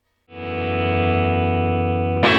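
Guitar test tone played through a Bad Cat amp during a TONE X capture: a single loud sustained distorted chord with a steady buzzing harmonic drone, cut off by a brief noisy burst at the end.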